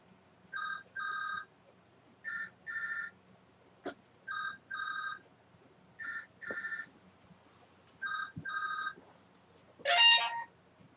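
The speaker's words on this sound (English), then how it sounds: "Sorry, that was my phone." A mobile phone rings in repeated double electronic trills with short gaps between them, moderately loud in a quiet room, followed by a brief rustle near the end.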